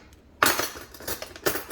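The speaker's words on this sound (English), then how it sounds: "let me go ahead and get me a fork from up out of here." Metal cutlery clatters and jingles close up as a fork is pulled from a drawer full of silverware, in a few quick bursts.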